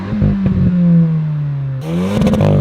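A Hyundai i20N in the racing game Test Drive Unlimited Solar Crown revs loudly, its engine note rising and falling through short bursts before climbing again with a brighter, harsher tone.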